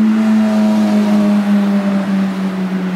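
A Chevrolet C10 pickup with a V8 engine revs loudly on a city avenue, a strong droning engine tone that slowly sinks in pitch over a few seconds, close and unaccompanied by talk.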